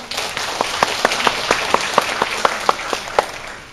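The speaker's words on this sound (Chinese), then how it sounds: "所以先用掌声给自己鼓励一下" An audience at an education lecture applauds with a steady run of sharp claps in a reverberant hall, fading slightly toward the end with no speech.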